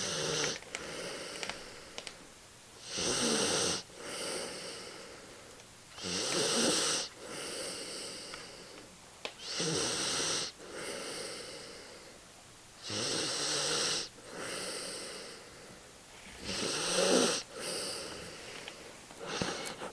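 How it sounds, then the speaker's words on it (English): An animal snores in its burrow, a slow steady rhythm of about six long breathy wheezing snores, each followed by a quiet pause, close and fairly loud with no voices. "This is Dave snoring in his burrow."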